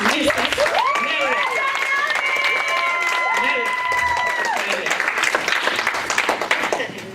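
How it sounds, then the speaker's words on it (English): Sustained applause and cheering from a crowd at a community association gathering, loud and continuous throughout, with voices and whoops rising over the clapping. "Please give her a round of applause"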